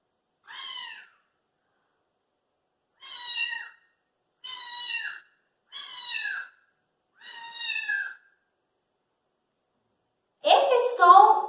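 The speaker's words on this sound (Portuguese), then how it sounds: "gatinho miando," A kitten meows in a series of five short, clear, high-pitched cries spaced a second or two apart in otherwise quiet surroundings, followed by a louder, more broken burst of sound at the end.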